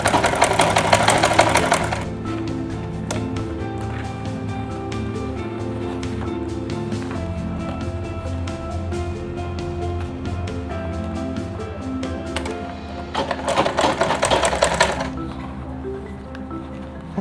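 A sewing machine stitches the body of a fabric lunch bag together with a belt end, running steadily and loud at close range, with brief bursts of faster whirring at the start and near the end.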